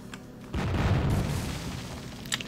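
Heavy cannon fire in the strategy video game Zero-K, a deep booming blast that rumbles on for a couple of seconds with a smaller pop near the end.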